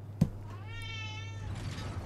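A cat lets out a single drawn-out meow close by, after a brief thump, over a steady low hum.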